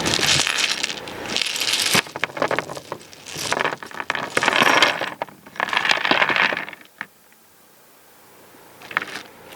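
A pile of salvaged thrift-store board game dice, some lettered, in orange and black, is rummaged and tumbled by hand, giving loud clattering bursts of plastic against plastic that stop, then return as a few sparse clicks.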